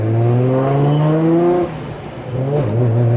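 Nissan Skyline R32 GTR (BNR32) engine revving under load while driving, rising harmonic drone climbing in pitch, a brief lift-off dip midway, then building again with turbo whir close and loud, no talk.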